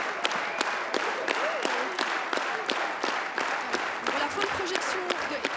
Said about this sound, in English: So that was after the screening of It Must Be Heaven by Elia Suleiman. A lot of applause.